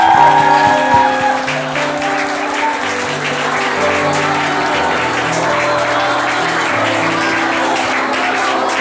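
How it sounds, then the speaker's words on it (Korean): A church congregation at a Wednesday service and women's gathering claps together in praise, a sustained crowd of hands that is loud near the start and then settles, with sustained musical tones running underneath. "자, 다 나올 때까지 우리 주님에게 박수 한번 합시다."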